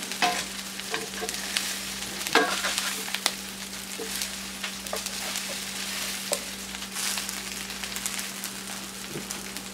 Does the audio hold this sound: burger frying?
yes